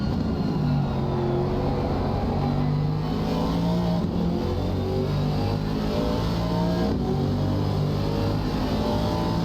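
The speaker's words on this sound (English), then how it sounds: "A bit of a panic downshift will certainly over-rev that thing and blow it right up" An Aston Martin race car in a racing video game at Kyalami roars at high revs, a loud, continuous engine drone that climbs and shifts pitch through gear changes with no talk over it.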